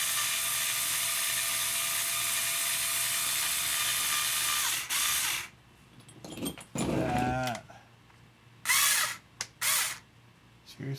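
An electric screwdriver or drill backing screws out of an RC car, a sustained whirring buzz followed by several shorter bursts and squeaky turning sounds, close and fairly loud.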